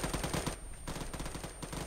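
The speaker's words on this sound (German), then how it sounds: "Ich höre Schüsse, aber ich sehe nicht von wo." Bursts of automatic gunfire from the ArmA 3 video game, rapid rattling volleys in quick succession at moderate distance, with no talking.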